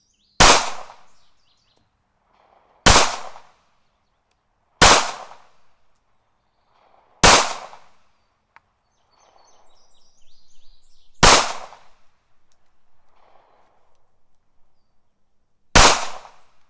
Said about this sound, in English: drop the mag, put her in the holster, and go ahead and shoot